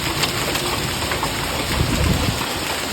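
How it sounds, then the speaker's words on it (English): Hailstones falling in a storm rattle down as a steady, dense patter of small impacts, loud and close, with no voices over it. "Look at the hailstones. There's one. Ice. That's the storm."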